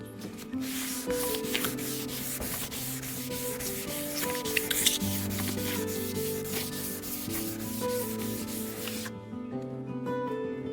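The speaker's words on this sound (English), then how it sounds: "when you're wet sanding, the whole purpose of the water is just so your pad doesn't gum up" Steady wet sanding on a Volvo XC70 car part, a continuous rubbing scrape with repeated back-and-forth strokes, close and loud throughout, ending in a near-silent pause.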